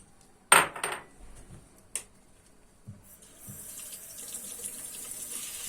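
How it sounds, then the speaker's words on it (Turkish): Soaked rice rinsed in a strainer for chicken soup: a few clinks of a strainer or pot, then running tap water rising to a steady close stream, with no talk. "Şu şekilde iyice yıkıyoruz. Pirincin o beyaz suyu çorbaya zarar vermesin diye."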